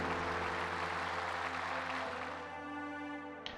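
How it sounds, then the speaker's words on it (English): Applause from an in-game audience in Super Robot Wars Y, a broad, even wash of clapping under steady background music that gradually thins out and fades near the end. "Thank you very much for your gracious applause."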